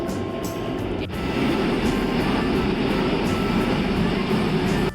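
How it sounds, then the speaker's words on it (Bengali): A train pulls into a station close by with a steady, heavy roar that swells after a sharp clank, continuing loudly to the end. "ট্রেন চলে এসছে, এবারে আমরা ট্রেনে উঠবো।"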